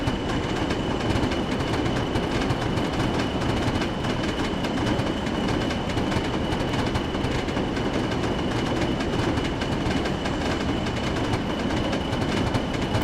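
A BR Class 40 diesel hauls a heavy oil train on a winter Stalybridge to Huddersfield run in Train Sim World, slowing toward 50 mph. Its steady, loud rumble and rolling rail noise continue unbroken throughout, with no talking.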